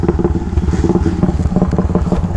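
A Honda 66-style motorcycle with a truck exhaust fitted roars in a loud, steady, rumbling rev close by, its deep pulsing tone continuous throughout with slight clatter on wet favela streets.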